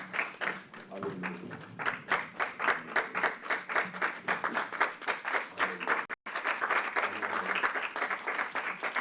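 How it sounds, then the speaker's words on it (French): A church congregation claps in steady rhythmic unison during worship, with voices mixed in beneath the dense, continuous applause. "Acclamons le Seigneur."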